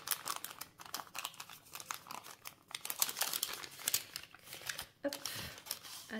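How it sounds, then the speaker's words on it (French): Wrapped advent calendar packet for a diamond painting set being opened, with repeated close crinkling and tearing of paper and plastic wrap in irregular bursts, and brief quiet gaps between. "là du coup on va ouvrir les deux premiers paquets"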